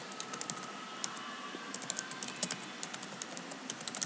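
Rapid, uneven clicking of keys on a computer keyboard, close and fairly soft, with irregular bursts of keystrokes and no talk.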